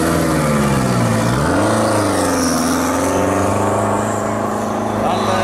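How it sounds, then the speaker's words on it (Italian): Engine of a 1000cc Mini Cooper revving at a gentlemen drivers meeting for classic cars, a steady low drone that rises and falls in pitch, heard close and loud with a person talking over it. "Ah, ecco il rumore del motore, lo sentiamo."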